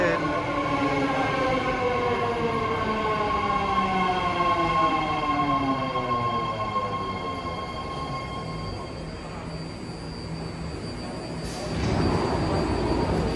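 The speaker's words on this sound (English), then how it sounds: "here comes the 10-car, 3-door San Francisco Daly City train" A 10-car BART train to SF Daly City glides into Bayfair Station platform 2 with a rising, descending whine of motors and faint wheel squeal, fading as it slows, then a brief rush of noise.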